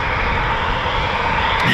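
Eurofighter Typhoon FGR4 jets departing RAF Coningsby make a loud, steady engine roar that fills the whole moment, with a slight swell toward the end.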